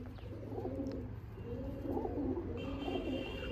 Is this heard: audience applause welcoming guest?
no